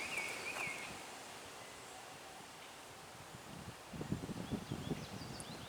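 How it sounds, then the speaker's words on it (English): Strong wind moving through garden plants and leaves in May, a continuous soft rushing with occasional louder gusts of rustling toward the end and faint birds in the background. "There is a very strong wind."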